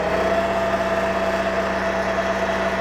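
A BCS 630 WS flail mower's engine runs steady and loud close by, a constant droning hum with even vibration and no clear rise in revs.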